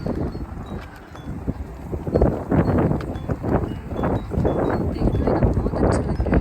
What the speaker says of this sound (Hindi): इतनी हवा चल रही है ना चिल्ड